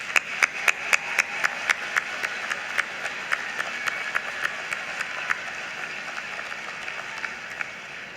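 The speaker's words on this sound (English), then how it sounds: "Everyone, please join me in applauding these outstanding graduates." Graduation ceremony audience applauding graduates, with a crowd's clapping carried by sharp, regular individual claps that continue steadily and then gradually thin out.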